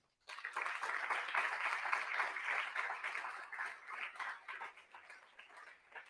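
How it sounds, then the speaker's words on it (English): Audience applause at the 40 Under 40 Class of 2022 awards ceremony: steady, dense clapping starts abruptly, holds at a fairly even level for about six seconds, then thins slightly toward the end, with no talking over it. "So let's give a round of applause to Jen Wagner."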